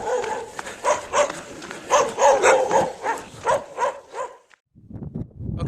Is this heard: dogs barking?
yes